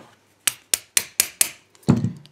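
A hammer drives a screwdriver into the side of a Master 178 combination padlock: five sharp, evenly spaced metallic taps up close, followed by a duller, heavier knock.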